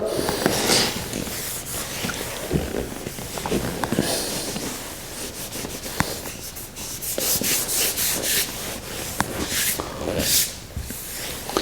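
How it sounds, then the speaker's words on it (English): Glue being rubbed away from a repaired groove in a laminate floor, a continuous close scrubbing and scraping with uneven strokes and occasional small knocks, fairly loud, with no talking. "Rub away the glue, and there you go."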